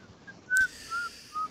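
A person whistles three short, faint notes spaced apart, with a brief click near the start, close and without talk.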